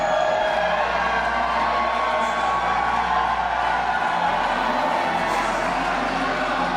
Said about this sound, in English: Standing ovation here for Marko Stunt